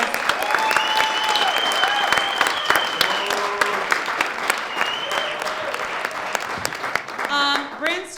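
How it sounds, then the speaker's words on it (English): An audience applauds at the Brandstar Studios Taylor Made Christmas 2020 event, dense sustained clapping with occasional whoops and raised voices mixed in, swelling briefly near the end. "Brandstar, please give them an applause."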